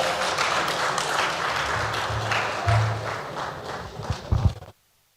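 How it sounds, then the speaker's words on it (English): An audience applauds keynote speaker Rose Goslinga at a smallholder-farmer resilience talk, a steady wash of clapping that holds for several seconds, swells briefly in the middle, then stops abruptly. "Please, ladies and gentlemen, a round of applause for her"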